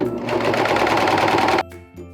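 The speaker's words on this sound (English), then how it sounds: "Let's put our fabric into the serger." A serger overlocks and trims a fabric edge for a high-waisted pencil skirt, a loud close rapid buzzing run of stitching that stops sharply, leaving a faint hum.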